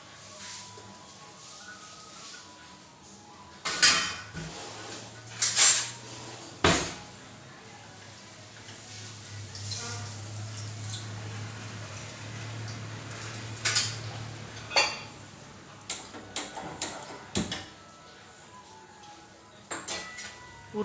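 Pots and utensils clatter in a sink basin piled full of dishes in a home kitchen, with scattered sharp metallic clanks and knocks over a low background hum.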